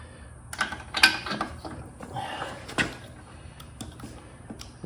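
A ratchet turns a 13/16 socket to loosen a spark plug on the Honda engine of a Homelite pressure washer, giving a few close, sharp clicking bursts amid quieter mechanical handling noise.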